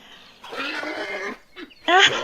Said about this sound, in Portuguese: Estou certo que você será um incrível cavalo de guerra, Héctor, assim como o do meu pai.